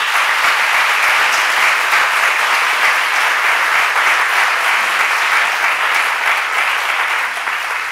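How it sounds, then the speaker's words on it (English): Loud, sustained applause from a lecture audience at a talk on mental health and the megacity, a thick continuous roar of clapping hands that holds steady throughout with no speech. "I wouldn't mind if you might give them a round of applause"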